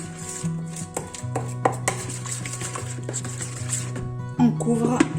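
Mixing bread dough with sunflower oil in a bowl, scattered clinks and knocks of utensil against dish over a low steady hum, with a brief burst of louder stirring near the end.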